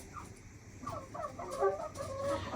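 Chickens cluck and chatter in short bursts over a low farmyard background, fairly close and moderately loud, with no talking.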